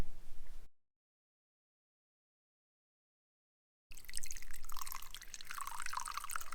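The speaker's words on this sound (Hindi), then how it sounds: "500 ml पानी डालेंगे।" Water, 500 ml in all, pours into raw green mango pulp for a tangy mango drink. A brief sound opens, then silence, then a steady, fairly loud splashing pour for the last few seconds.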